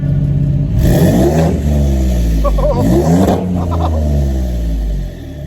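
A Ford F-150 EcoBoost with an aFe Rebel exhaust revs up hard twice with a deep, loud rumbling exhaust, rising and falling in pitch, then settles back toward idle.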